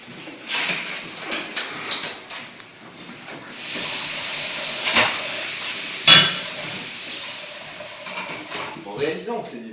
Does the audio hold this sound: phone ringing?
no